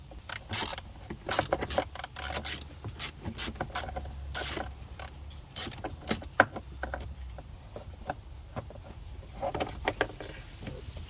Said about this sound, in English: you can use a 6mm socket